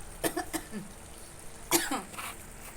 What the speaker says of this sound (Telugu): గరం మసాలా మూత తీయగానే నాకు ఆ స్మెల్కి కొంచెం దగ్గులాగా వచ్చేస్తుంది